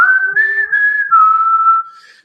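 A person whistles a melodic tune for about two seconds, one clear sustained line with small pitch steps and slides, close and loud, fading at the end.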